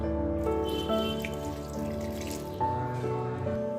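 Water pours into lemon juice for a mint sherbet, a continuous trickling, gurgling stream with shifting pitch as the vessel fills, close up and without talk.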